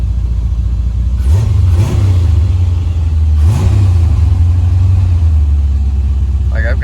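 A 1984 Chevrolet Corvette engine runs at a loud steady idle, with two quick revs rising and falling close by.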